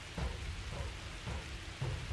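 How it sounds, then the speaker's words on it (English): Heavy rain in the survival game The Tribe Must Survive, a steady faint wash of falling water with soft low thumps recurring throughout, no voices. "Let's say our tents are starting to leak under the heavy rain, disturbing our rest."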